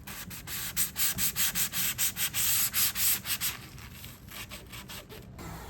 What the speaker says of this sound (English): I have these sanding sponges that I like to use